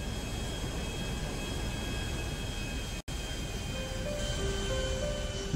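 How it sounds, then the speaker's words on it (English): Steady broadband engine roar of an airplane in flight in the video game GTA 5, a continuous loud drone with faint tonal whine and a brief dropout midway, no talking. "But I will still fly the plane for you."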